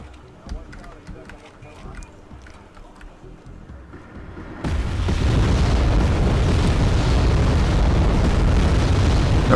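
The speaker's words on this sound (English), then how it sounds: "The artillery in this game is a lot more accurate than in Wargame European Escalation." Artillery explosions in the war strategy game Wargame Airland Battle hit as a sudden, loud, dense rumbling barrage that follows quieter background sounds and carries on continuously to the end.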